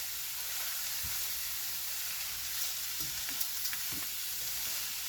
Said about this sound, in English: we're going to go ahead and stick our rice in. And we're going to just stir it around for a few minutes